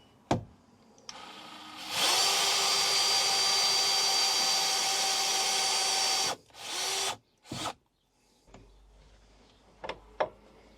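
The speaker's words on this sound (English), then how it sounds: "Because the beech is quite tough, I'm going to put a pilot hole in it." Power drill boring a pilot hole in tough beech wood for a VW T2 Bay window camper, one loud steady whine of about four seconds, then short bursts and a few clicks.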